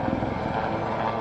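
A Lynx helicopter performing at an airshow, a steady loud rotor and engine roar filling the whole moment without pause, close and continuous.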